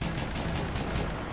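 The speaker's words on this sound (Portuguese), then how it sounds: "Esse é um canhão rotativo. Ah, ele atira mesmo, balinha." An aircraft rotary cannon firing in a video game, a fast rattling burst of rapid repeated shots with regular pulses, loud and continuous for the whole short stretch.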